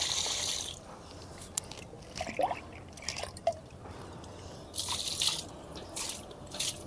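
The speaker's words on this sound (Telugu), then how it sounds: "ఇప్పుడు ఈ మగ్గుతో వాటర్ మనం ఒక్కొక్క మగ్గు చొప్పున ఈ ప్లాంట్స్కి ఇస్తే సరిపోతుంది." Water mixed with fertilizer poured from a mug onto kanakambaram (crossandra) plants gives soft dripping and trickling splashes in a few bursts, fairly quiet and close by, with no talk.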